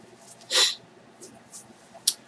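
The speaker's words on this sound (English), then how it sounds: "I'm going to blow my nose right now." A person gives a short, sharp nose blow, one burst followed by a couple of smaller sniffs and a brief snort, close and alone in a quiet room.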